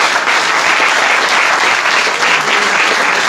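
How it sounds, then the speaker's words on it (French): Dense applause from a large audience at a political rally in Vaux-le-Pénil, steady and loud throughout with no pauses. "On peut l'applaudir."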